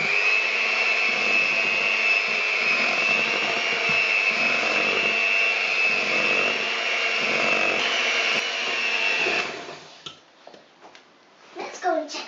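Cupcake batter being mixed for vanilla cupcakes, likely with an electric mixer, a loud steady whirring hum for about nine seconds that then stops, followed by someone talking.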